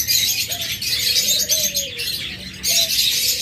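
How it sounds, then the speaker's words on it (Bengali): A large flock of caged budgerigars chatters in dense, continuous high chirping, with a few lower cooing calls from doves rising over the chorus nearby. "আপনারা হয়তো আওয়াজ শুনে বুঝতে পারতেছেন হিউজ পরিমাণ বাজরিকা পাখি রয়েছে আমাদের কাছে।"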